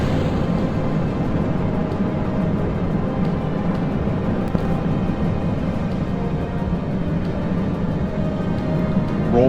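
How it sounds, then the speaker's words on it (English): Rocket engines firing at lift-off in Kerbal Space Program with the RP-1 mod, a loud, steady, dense rumbling roar that holds unbroken for the whole stretch with no voices over it. "So I guess I'm going to fire up the engines"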